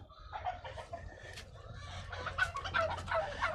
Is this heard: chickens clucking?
yes